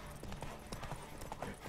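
Horse hooves clip-clop at a galloping pace during a horse race in The Witcher 3, quick rhythmic thuds fairly faint under a steady background bed, with someone speaking briefly over them.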